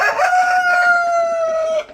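A rooster crows once, loud and close, a long drawn-out cock-a-doodle-doo with a clear wavering tone that cuts off at the end.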